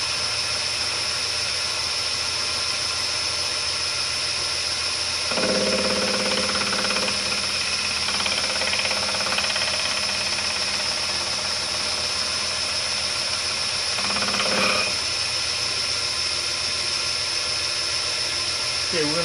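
A machine spins at a steady 1,000 RPM with a constant mechanical hum and a high whine, while a person talks briefly over it twice.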